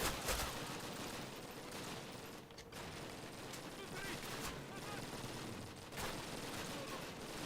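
Enemy gunfire from behind in the video game Call of Duty Classic, a steady dense fusillade of shots and mechanical rattles running throughout, with a brief lull partway through.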